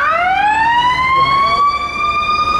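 Ambulance siren wailing loud and close, its tone sweeping upward and holding steady as the vehicle passes, with no talking over it.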